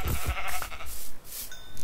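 A sheep in the Minecraft video game bleats several times in quick succession, nasal and fairly close, with game sounds mixed in.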